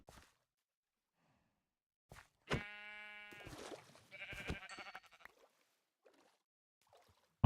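Sheep in the blocky survival game GregTech New Horizons bleat twice, clear wavering baas a second apart, close and alone against near silence.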